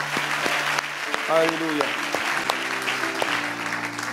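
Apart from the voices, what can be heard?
congregation applauding the Lord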